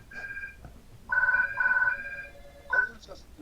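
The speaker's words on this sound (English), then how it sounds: "And now my phone's ringing." A phone rings in several short electronic trills, close and clear, with pauses between the bursts.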